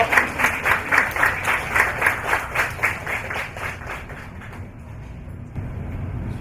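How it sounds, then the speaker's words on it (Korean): A seminar audience gives a warm welcome to a CBS radio department head, rhythmic clapping that pulses evenly at first, then thins and fades away toward the end. "큰 박수 부탁드리겠습니다."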